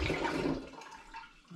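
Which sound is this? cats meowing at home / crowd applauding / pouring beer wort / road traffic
pouring beer wort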